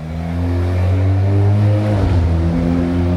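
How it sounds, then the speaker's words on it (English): A car engine drones loudly and close, climbing in pitch as it revs and accelerates past, with continuous morning street traffic around it. "Traffic roars as the world wakes up on this Monday morning."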